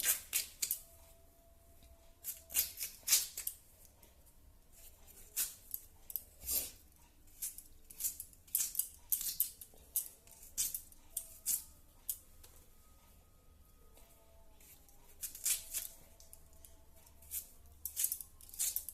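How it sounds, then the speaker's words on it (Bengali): Potatoes are cut into small pieces on a kitchen board, with close, quiet, irregular clicks and taps coming in short bursts throughout. "এখন আলুগুলো কেটে নেব ছোট ছোট করে"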